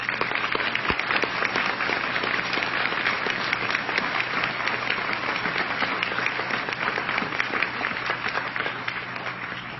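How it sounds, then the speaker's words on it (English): Sustained audience applause for police officers at a political speech in South Carolina, a dense even roar of many hands clapping at steady moderate loudness for the whole stretch, tapering slightly at the end. "we should give a round of applause to all the police officers"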